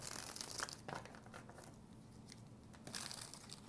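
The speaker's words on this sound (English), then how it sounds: "So let's go ahead and start shuffling here." Tarot cards being shuffled during a reading, giving soft papery riffles and crinkly rustles in short bursts, close and fairly quiet, with no talk over it.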